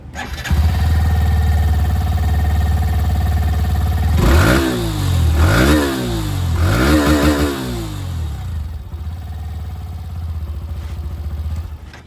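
A Hero Glamour X 125 motorcycle engine cranks, catches and idles, then revs sharply a few times before settling back to a steady idle, loud and close.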